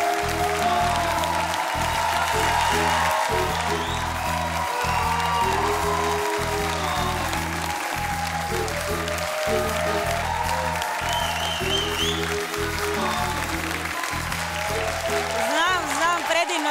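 Studio audience applause greeting five masked contestants on the Croatian Masked Singer, a steady loud crowd roar lasting throughout over a pounding rhythmic music bed.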